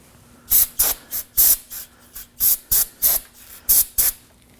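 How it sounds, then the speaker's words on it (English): Brake cleaner sprayed onto the wheel hub of a 2014-2020 Acura MDX during a front brake replacement, in about ten short, loud hissing bursts at a quick, uneven rhythm, close up with no talking. "Using some brake cleaner, now we're going to spray the hub."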